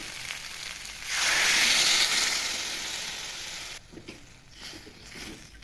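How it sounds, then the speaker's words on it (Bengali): Water poured onto fried potatoes in a hot pan sets off a sudden loud sizzling hiss that swells, then gradually settles into quieter bubbling. "আলুগুলো ভালো করে ভেজে নিয়েছি, এবার জল দিয়ে দেবো"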